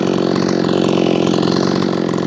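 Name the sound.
repaired, ported Efco 165 chainsaw running at high RPM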